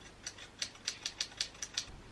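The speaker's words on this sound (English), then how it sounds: "I like to use the typewriter. Don't use the normal typewriter, it's the third one down in Final Cut Pro" Typewriter sound effect from Final Cut Pro's effects library: a steady run of crisp, sharp key clacks, about eight strikes in two seconds at an even rhythm, fairly quiet and heard alone.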